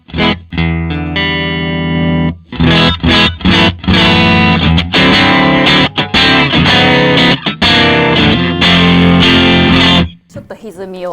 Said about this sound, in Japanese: ちょっと歪みを足してみました。